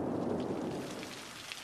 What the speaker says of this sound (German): Warum regnet es jetzt eigentlich schon wieder?